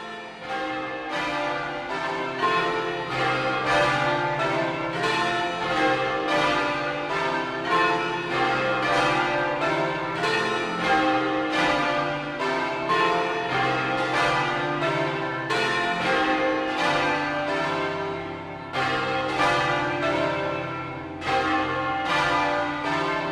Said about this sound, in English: compose bell clusters to be presented from the bells in the tower